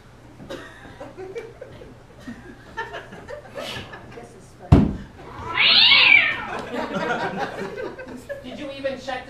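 A cat meows from inside a waste paper basket, one clear, fairly close cry in the middle while people talk and chuckle around it.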